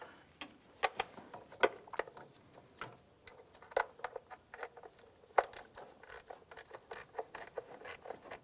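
Plastic timing covers on a 2001-2005 Honda Civic get their bolts snugged down with a ratchet, producing a run of quick, close, dry clicks and rasps at an irregular rhythm with no talking.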